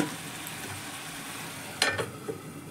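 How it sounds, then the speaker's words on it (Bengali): Vegetables and paneer stirred in a frying pan, a soft continuous sizzle broken by a couple of sharp spatula scrapes near the end, quiet and close with no talk. "এবার এটাকে আমি ভালো করে নেড়ে চেড়ে মিশিয়ে নেব"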